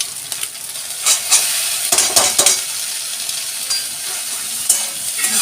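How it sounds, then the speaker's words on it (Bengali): Chopped onion fries in a pan with two beaten, salted eggs, producing a loud, steady close-up sizzle broken by intermittent utensil scrapes and clinks against the pan. "এবার পেঁয়াজটা দিয়ে দেবো।"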